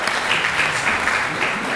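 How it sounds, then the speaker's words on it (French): Applause from a conference audience at a talk on overseas French cultures, a steady dense wash of clapping filling the whole stretch at even loudness, with no voice over it. "vous pouvez aussi applaudir."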